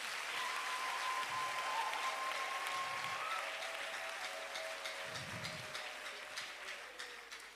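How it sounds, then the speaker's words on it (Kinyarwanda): A congregation applauds for God during a church service, a dense, steady wash of clapping that runs through the whole stretch and eases slightly toward the end, with faint background tones underneath. "gikomera amashyi Imana yacu"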